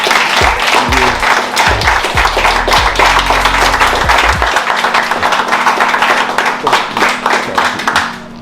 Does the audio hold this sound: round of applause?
yes